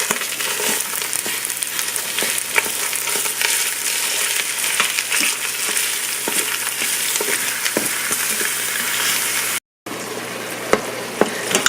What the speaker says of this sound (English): you see the hamburger and sausage are starting to saute down really nicely